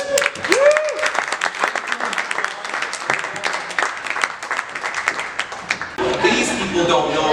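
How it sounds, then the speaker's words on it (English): An audience at an adults-only live magic show applauds two volunteers, a dense burst of clapping close and lively, with laughter and voices mixed in and a brief whistle at the start. "Give them both a round of applause."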